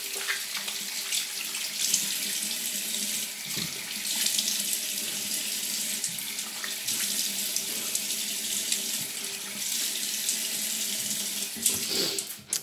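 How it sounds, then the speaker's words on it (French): Tap water runs steadily into a sink as face soap is rinsed off, a continuous close splashing stream with small shifts in flow and no talking. "Donc une fois que le savon a bien pénétré, ben, on va tout simplement le rincer."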